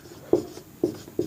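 Marker or chalk writing on a classroom board, three short scratchy strokes in quick succession, close and clear with no talking.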